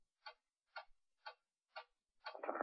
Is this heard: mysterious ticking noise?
yes